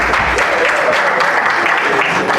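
Steady, dense applause from an audience welcoming officials onto the stage at a national debate championship final in Lomé, Togo, filling the whole moment loudly and evenly without a break.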